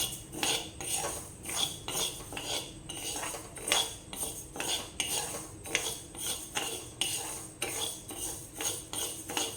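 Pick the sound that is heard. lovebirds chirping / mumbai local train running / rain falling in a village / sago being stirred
sago being stirred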